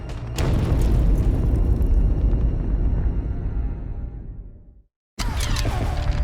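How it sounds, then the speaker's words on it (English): Grenade blast in a Battle of Iwo Jima combat scene: a sudden loud boom followed by a long rumbling roar that fades over several seconds, a brief silence, then another burst of noise. "The Japanese got down, and we got down, and then the grenade went off."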